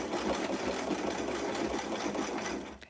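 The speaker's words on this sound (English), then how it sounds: "Here's the end, and then we're going to back stitch" A sewing machine runs steadily for about two and a half seconds while back stitching the hem of a small Barbie square dance dress, its dense mechanical whir continuous and close before stopping abruptly.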